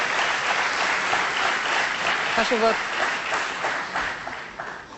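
A TV debate studio audience applauds steadily and loudly throughout, with a brief spoken voice cutting in over the clapping midway.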